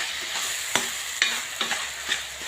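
Marwari vegetable curry with red chilli, coriander-cumin powder and fresh coriander is stirred in an oily pan: a handful of spaced spatula scrapes over a steady, gentle sizzle, close and alone.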